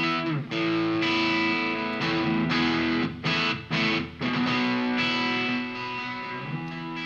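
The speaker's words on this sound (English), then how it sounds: "let's stick some of that reverb on." Electric guitar played through the Line 6 Helix Native amp-modelling plugin with reverb added, sustained distorted chords ringing with a wash of reverb, a few brief gaps between strums, loud and alone.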